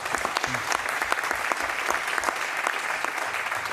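A hall full of delegates at an IOC session applauds a vote, with steady, dense clapping at moderate volume throughout and no voices over it.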